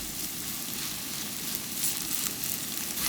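Cabbage pancake frying on high heat in a pan, giving a steady, even sizzle that fills the whole stretch with no voices.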